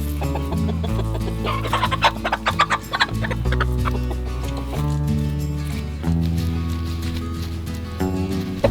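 Backyard chickens, a cockerel and a young pullet, cluck in short bursts and clusters close by over a steady low background, with a few sharper clucks partway through.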